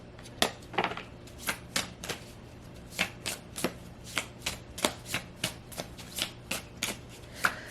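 A deck of oracle cards is shuffled by hand, giving a steady run of crisp, rapid riffling slaps and flicks at close range with no voices.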